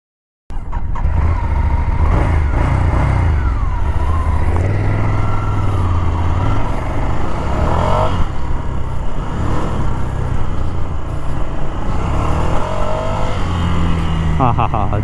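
A Ducati Scrambler Desert Sled motorcycle rides off-road, its engine droning loudly and continuously as revs rise and fall through gear changes, with heavy wind rush over the whole ride.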